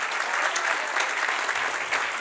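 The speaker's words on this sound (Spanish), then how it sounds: "Dale un aplauso al Señor." A church congregation at a Spanish-language service breaks into sustained, dense applause, a steady wash of many hands clapping together from start to finish with no clear speech over it.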